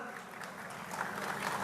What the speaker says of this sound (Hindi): एक बार जोरदार तालियों से स्वागत कीजिए उनका।